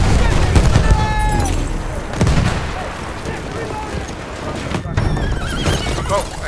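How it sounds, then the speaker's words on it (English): A horse in the Battlefield 1 battlefield neighs loudly close by while hooves gallop, amid bursts of distant gunfire and explosions, with voices talking over the scene. "Oh, I get run over by horse."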